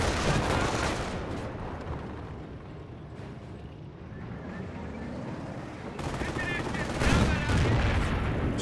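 Gunfire aimed at engineers in a Company of Heroes 1 battle between Wehrmacht and US forces: repeated rifle and machine-gun shots with rumbling blasts, a busy wash of combat under a commentator's steady talk.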